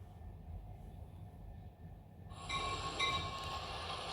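A metro train in the video game Avatar World rumbles steadily, and about halfway through a bright metallic squeal and whine rise over the low rolling noise.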